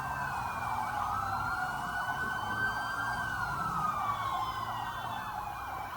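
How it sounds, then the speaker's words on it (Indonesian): Multiple sirens of Densus tactical police vehicles wail together continuously, their rising and falling tones weaving over a low engine rumble. "Lampu rotator dan suara sirine kendaraan taktis milik Densus dinyalakan"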